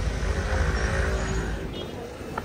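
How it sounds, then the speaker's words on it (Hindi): A city bus pulls up to a stop on a busy Istanbul street, its heavy engine rumble and road noise filling the scene loudly and steadily before easing slightly as it settles. "ये आ गई बस,"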